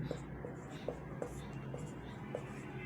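Faint scratching of a pen writing out a maths solution during a lesson, made of soft, scattered short strokes and ticks over a quiet, hissy room background with no talking.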